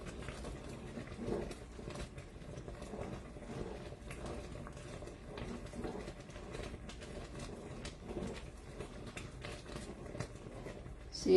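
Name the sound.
peanut butter fudge boiling in pot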